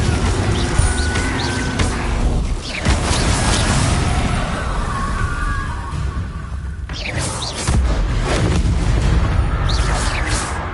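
Confringo fire spells blasting in Hogwarts Legacy, a combat sequence of heavy booming explosions and sharp bursts, several impacts in quick succession over a steady rumble of battle noise.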